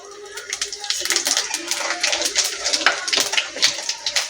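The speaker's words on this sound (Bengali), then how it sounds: "আমি জিরে ফোড়ন দিয়ে দেবো এবার" Cumin seeds spluttering in hot oil, added after cinnamon, cardamom and cloves, while cooking a Bengali fish curry with cauliflower and potato; dense, rapid crackles and pops sound close up and continue unbroken throughout.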